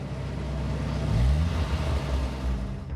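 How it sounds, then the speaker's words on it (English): A car engine revs hard with the accelerator pressed to the floor, a continuous low roar that surges and climbs in pitch midway before settling into a steady drone. "You could hear the engine just make the noise of when somebody has pushed the accelerator to the floor."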